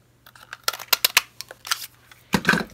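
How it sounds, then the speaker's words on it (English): Paper punched with a 1 1/4 inch circle punch while making a mini binder clip bag, a close run of crisp clicks, crunches and rustles, then a louder final crunch, with no talk. "I'm going to cut it out with the 1 1/4 circle punch"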